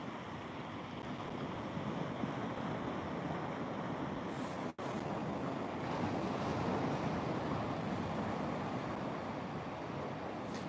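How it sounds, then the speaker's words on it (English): Sea waves washing onto the beach at Bacton, North Norfolk, at night during sea fishing: a steady, dense roar of surf with a windy rush over the microphone and no talking. "Can you hear the sea? Can you hear the waves?"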